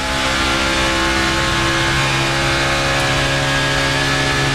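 NASCAR race cars at the 2009 Sam's Town 300 roar continuously at full throttle, a loud, steady engine drone filling the whole clip with no break.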